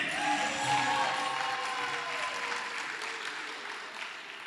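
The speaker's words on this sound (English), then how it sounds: "A round of applause for Iggy." Audience applause after a speaker at a 3MT, VYT and poster research competition event, a dense continuous patter of clapping in a hall that holds steady then gradually thins, with no talk over it.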